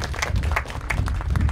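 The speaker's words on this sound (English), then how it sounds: "Mr. Kenny Reeder, if you could give him a round of applause" Crowd applause at a groundbreaking ceremony, many hands clapping in a steady, dense patter, fairly loud and continuous throughout, with no talking over it.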